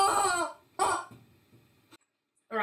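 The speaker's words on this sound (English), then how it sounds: "rubber chicken" Two loud squawking squeaks from a rubber chicken, each about half a second, separated by a brief pause, followed by a soft wheezing tail and the start of a third.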